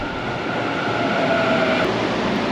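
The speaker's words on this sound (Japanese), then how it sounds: "ただいまホームには和光市行きの電車が入線してきました" A Tokyo Metro Yurakucho Line train bound for Wakoshi pulls into an underground platform, a steady loud rumble of wheels and motor with a faint tonal whine running throughout.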